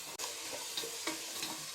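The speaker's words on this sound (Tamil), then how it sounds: "உப்பு மஞ்சத்தூள் போட்டு ஒரு கிளறி விட்டுருங்கம்மா." Soft scraping and light sizzling as sautéed vegetables with salt and turmeric are stirred in a pan for semiya kichadi, a few quiet spoon strokes against the metal.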